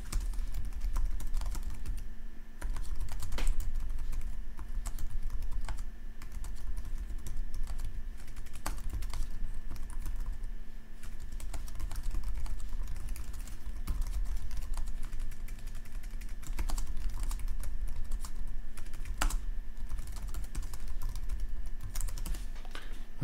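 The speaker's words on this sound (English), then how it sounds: "And I'd type my answer here." Steady typing on a computer keyboard while filling in a worksheet answer in Google Classroom, with continuous close key clatter running throughout, no talking.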